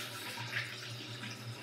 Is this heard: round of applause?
no